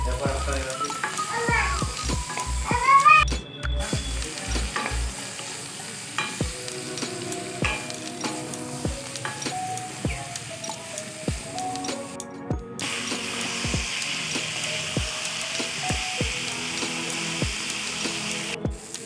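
Tomatoes with salt sizzle in a pan while a utensil knocks against it in a steady rhythmic series of sharp taps, over a low frying hiss, with a few high pings near the start.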